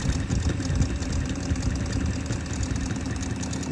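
Motor of an electrostatic 3-D printer humming, a steady low rumbling hum with slight fluttering pulses, moderately quiet and continuous throughout, heard alone without talk.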